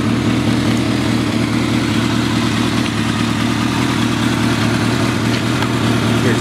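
A 1979 Kawasaki KZ650C motorcycle engine runs with an even, close low drone that holds constant throughout, without revving.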